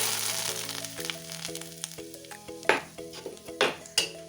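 Onam thoran is stirred together with a mustard-seed, curry-leaf and dried-chili tempering: gentle sizzling and scraping stirs under background music, with sharper spoon knocks against the pan toward the end.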